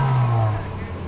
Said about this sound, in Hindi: गाड़ी का साउंड आप लोग को चेक करवाता हूँ।